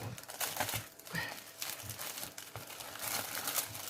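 A transparent plastic sheet crinkles and rustles as it is worked into a binder, steady close crackling with no talk over it.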